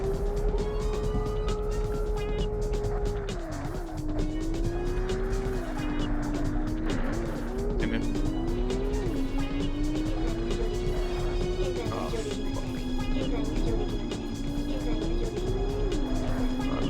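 Porsche race cars in the Porsche Challenge video game roar loudly throughout, engine pitch rising and falling through gear changes while overtaking, with tire squeal and skidding in places.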